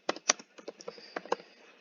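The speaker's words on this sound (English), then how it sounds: "You can click in, and you can type your response" Keys tapped on a computer keyboard in a short, uneven burst of about a dozen crisp clicks, close and fairly quiet with no talking.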